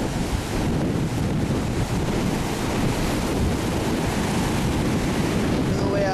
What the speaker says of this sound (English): Here's a really bad storm surge.